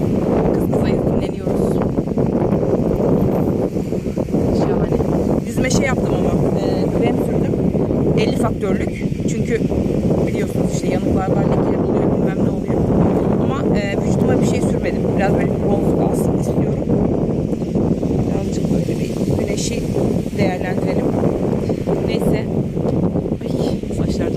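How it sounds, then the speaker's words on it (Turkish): Strong wind on a beach roars and buffets the microphone continuously, a dense rumbling rush that masks most other sound, with a voice speaking through it. "acayip rüzgar var."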